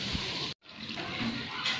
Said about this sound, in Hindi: इस गाय के मुंह से बारह महीने तक पानी टपकता रहता है